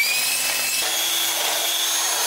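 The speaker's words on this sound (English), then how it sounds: "you can get that hole marked and then you can go ahead and drill that hole." A power drill bores a hole through a rear track bar bracket on a Ram 2500 truck, making a continuous close high whine whose pitch shifts down partway through, with no talking.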